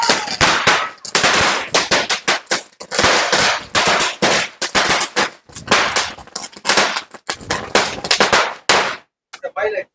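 Rapid, loud strings of Sivakasi Diwali firecrackers crackle and pop in dense bursts with brief pauses, close by, ending in a few scattered bangs.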